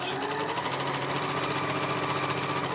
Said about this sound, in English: And I'm sewing down the edge.